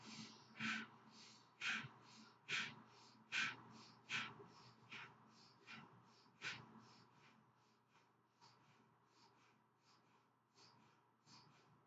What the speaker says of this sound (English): And we'll just do the fire breath here.